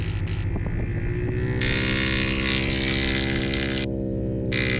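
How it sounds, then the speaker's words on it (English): A North American T6 plane's Pratt & Whitney R1340 radial engine drones loudly and continuously, a close, steady hum with strong rhythmic pulsing that stays constant throughout. "You gotta love the sound of these engines."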